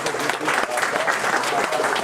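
Steady applause fills a gallery event as an audience claps for a professor at Galeria Koncept of PKO bank, a dense, continuous patter of many hands for about two seconds.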